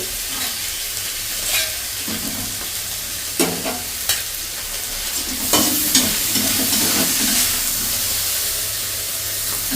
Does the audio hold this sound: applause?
no